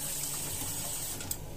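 Tap water runs and splashes while a Mambo blender jug is rinsed, a steady close gushing flow with light clattering near the end.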